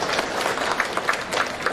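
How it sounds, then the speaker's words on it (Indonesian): A church congregation applauds during a consecration Mass, scattered hand clapping at moderate loudness in a reverberant space, sounding loose and uneven. "tepuk tangan untuk Bu Kitasam"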